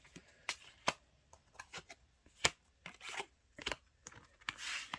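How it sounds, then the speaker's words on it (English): Tarot cards are shuffled close by, with quiet, intermittent papery riffles, soft slides and a few sharp snaps spread unevenly across several seconds. "They started shuffling without me realizing."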